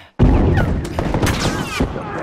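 A grenade blast and a burst of rapid gunfire from The Last of Us: Left Behind fill the clip, loud and close, with dense crackling shots that continue after a brief silent start.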